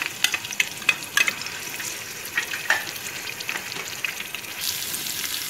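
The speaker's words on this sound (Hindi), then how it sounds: "अब हम इसमें ये खड़े मसाले ऐड कर देंगे और इनको थोड़ा सा भून लेंगे" Whole spices with browned onion and ginger-garlic paste frying in a pan, a continuous crackling sizzle with frequent small pops throughout, moderately quiet and without talk.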